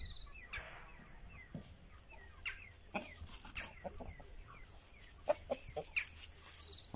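Several hens cluck and murmur close by in short, irregular bursts, with occasional higher squawks and faint chirps in a quiet background.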